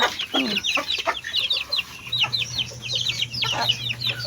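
Mother hens with their chicks clucking and peeping busily at feeding time, a dense run of close, high chirps and soft clucks with a steady low hum underneath.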